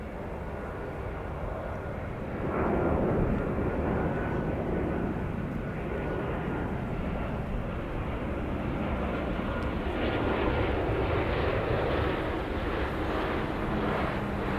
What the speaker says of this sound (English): There it is, Southwest arrival from San Diego.